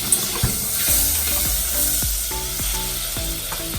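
Butter, about three tablespoons, melting in a hot pan for a Cajun halibut burger, a steady close sizzle with periodic spatula scrapes.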